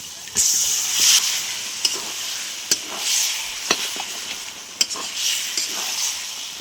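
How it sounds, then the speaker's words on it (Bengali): Chicken sizzles and crackles in oil with masala in a pan, a loud continuous fry punctuated by several sharp clicks of a spoon stirring against the pan. "চিকেনটা ভালোভাবে কষিয়ে নিয়েছি তেল ছেড়ে দিয়েছি"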